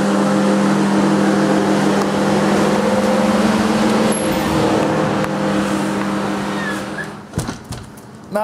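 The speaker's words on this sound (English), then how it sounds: "Not one, but 4 People's Calm trucks are here." Four trucks arriving with engines running, a steady droning motor hum held close and loud for several seconds before fading, then a few brief knocks and clatters at the end.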